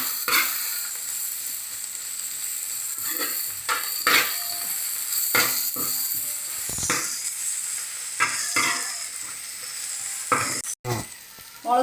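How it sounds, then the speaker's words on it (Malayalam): Tomatoes sautéing in a hot pan for chicken curry, with a constant oily sizzle and a spoon scraping and knocking at irregular intervals as they are stirred, close and clear with no voices. "നല്ലവണ്ണം വഴണ്ടി വരട്ടെ തക്കാളി."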